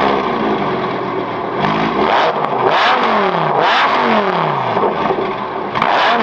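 A supercharged Lamborghini Gallardo with a straight-through exhaust revs hard several times, loud close blips rising and falling with a harsh, raspy roar between brief idle dips.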